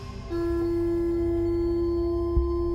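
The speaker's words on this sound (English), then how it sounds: "we start playing certain tones" A steady pure tone hums through a transducer fixed to a metal plate, sustained and fairly loud with harmonic overtones and a low rumble beneath, beginning abruptly and holding without pause.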